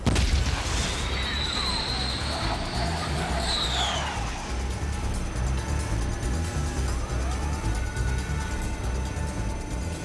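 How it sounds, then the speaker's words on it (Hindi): Hypersonic missiles launch in the animated series Ultraman Blazar, a continuous loud roar with rising and falling whooshes as they streak away, heard alone. "Hypersonic missiles fire."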